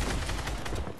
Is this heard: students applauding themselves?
no